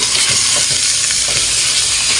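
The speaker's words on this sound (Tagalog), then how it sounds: "ayan lang po natin na lumabas yung mantika ng ating ground beef" Ground beef frying in a pan produces a loud, dense, continuous sizzle and hiss up close, with faint stirring underneath and no voices.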